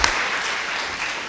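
An audience of students at a college talk claps together: a dense, steady patter of many hands, close and moderately loud, sustained throughout without voices.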